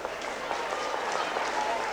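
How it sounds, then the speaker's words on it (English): Crowd applauding a player leaving the ground at an Australian football match between West Adelaide and Central, a steady wash of distant clapping and cheering under a commentator's voice. "The applause is for Hamilton."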